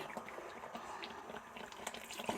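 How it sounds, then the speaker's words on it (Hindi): Water is poured into a pot of beef nihari, a soft, steady splashing and trickling wash that stays fairly quiet, with no talk over it. "अब इसके अंदर पानी डालेंगे।"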